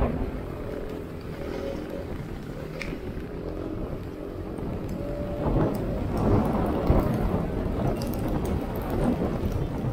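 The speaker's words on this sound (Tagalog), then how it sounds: "Ang sakit sa mukha, yung tama ng ulan." Heavy, steady rain during Typhoon Uwan in the Philippines pours continuously outdoors. Its dense hiss swells in the second half, with a low rumble underneath and no voices.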